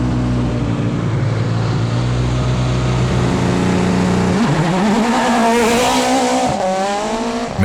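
A World Rally car tears along a stage at Rallye Baie des Chaleurs, its engine droning loud and steady, then revving sharply through gear changes with rising and falling pitch and a hint of tire noise.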